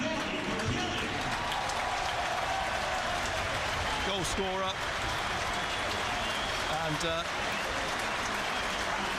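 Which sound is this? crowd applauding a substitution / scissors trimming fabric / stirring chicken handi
crowd applauding a substitution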